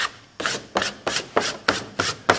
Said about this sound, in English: Use my squeegee.